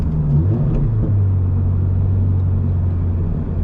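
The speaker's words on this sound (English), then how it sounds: "So I'm gonna rev match here." A car engine revs up briefly during a rev-matched downshift, then settles into a steady, loud low drone, heard from inside the car with no talking.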